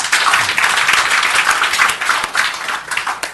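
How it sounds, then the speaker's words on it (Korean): Officials at a Hanam city directors' meeting clap together in thanks, loud, close, dense applause with uneven bursts throughout. "도에서 오신 국실장님들 고맙다고 박수 한번 쳐주세요."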